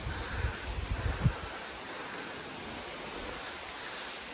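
A waterfall near a Shiva temple roars as a steady broadband rush, fairly close and constant, with a few brief bumps and rustles at the start.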